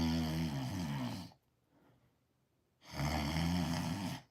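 A man's snoring imitated by a voice: two loud, drawn-out rasping snore bursts separated by a quiet pause, close and alone with no talk.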